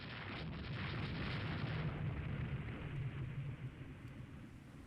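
Naval gunfire from warships in the strategy game Rule the Waves 3: a muffled, sustained rumbling boom that swells and slowly fades, with a low, distant quality and no voices.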